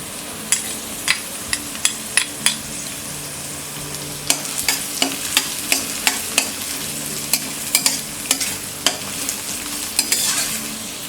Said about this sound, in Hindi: अनियन सॉफ्ट हो गए। अब हम इसमें डालेंगे ये कैज्यू नट्स,